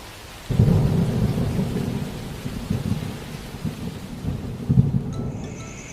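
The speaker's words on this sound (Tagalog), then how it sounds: "dahil tumila na ang ulan" Animated thunderstorm with steady heavy rain and rolling thunder rumbles, a loud burst near the start and another later, filling the scene with no voices.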